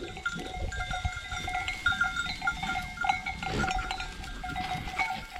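A flock of sheep bleats continuously in tall grass, several animals calling at once, with bells clinking and rustling movement close by.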